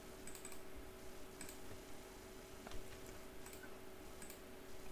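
Soft, quick key clicks of someone typing on a computer keyboard, faint and close over a steady background hum, with no talking.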